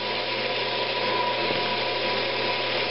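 Sandpaper up to 400 grit rubs against a wooden Christmas ornament spinning on a woodturning lathe, giving a steady hiss over the machine's constant hum, with no talking.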